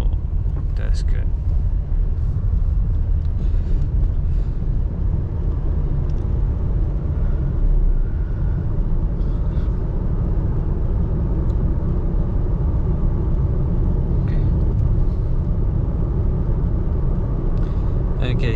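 Car driving through Limerick city, Ireland, from Raheen toward the University of Limerick in Castletroy, a steady loud interior road rumble and engine drone throughout, with occasional brief clicks and ticks.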